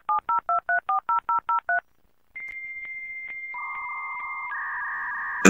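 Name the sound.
telephone dialing tones as phone cable is plugged into computer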